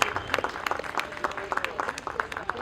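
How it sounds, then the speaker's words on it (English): Applause from an audience welcoming a guest of honour at a fireside chat event, crisp scattered claps from a modest crowd, fairly close, with faint voices underneath. "May we have a huge round of applause for him, please"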